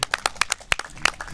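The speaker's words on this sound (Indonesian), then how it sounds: "Mana tepuk tangannya?" Audience at a national seminar on traditional culture and ritual clapping, several distinct claps ringing out in a loose, uneven rhythm, fairly close and clear.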